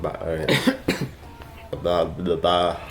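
A person with COVID gives a few harsh, bursty coughs between stretches of talking, close to the listener.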